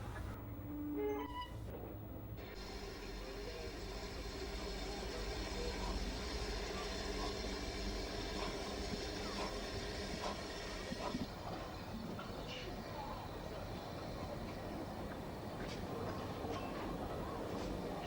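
Ffestiniog Railway steam train at Porthmadog station with an 0-4-0 saddle tank locomotive, a steady rumbling rail sound with clatter running continuously at moderate distance, a few faint clicks early on.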